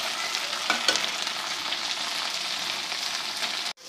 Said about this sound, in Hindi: मज़ीद हम इसको 2 से 3 मिनट फ्राई करेंगे। भिंडी को टूटना नहीं चाहिए।